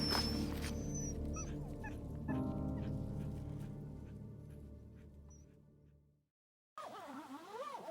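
Sled dogs in Greenland whimper and yip, thin high cries rising and falling over a low steady background, then a break and a closer burst of wavering whines.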